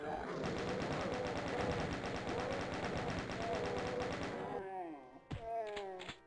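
Rapid machine-gun style gunfire from enemies in the video game Doom 2 rattles loudly and continuously for several seconds, then breaks off into a few separate shots and thuds.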